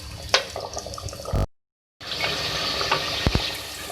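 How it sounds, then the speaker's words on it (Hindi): Beef balti gosht simmers in a pot, giving a steady bubbling, sizzling wash with a few clinks, broken by a half-second gap of silence before the cooking noise resumes. "ये देखिए हमारा जो ये गोश्त है ये पक रहा है"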